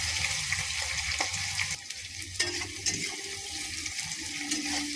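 Chopped onion and green chilli hitting hot oil in a frying pan while cooking sago pulao, giving a steady close sizzle with scattered clinks and scraping.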